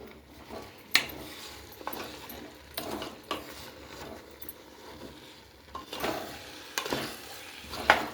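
A spatula scrapes and clinks against a pan while chopped vegetables, beetroot and capsicum for pav bhaji, are stirred and mixed, with soft irregular taps and light sizzling in a quiet home kitchen.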